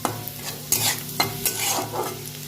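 Dried chilli, chopped garlic and onion frying in hot oil in a wok, a constant close sizzle broken by several sharp scraping stirs of a spatula against the pan.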